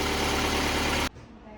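A Kubota B2710 tractor engine runs loudly and close with a dense, steady rumble for about a second, then cuts off abruptly into quiet room noise.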